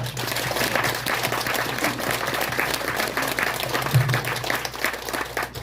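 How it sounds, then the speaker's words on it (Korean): Steady applause from a seated crowd at the opening ceremony of a village senior center, dense continuous clapping lasting throughout without a break. "큰 박수 부탁드립니다."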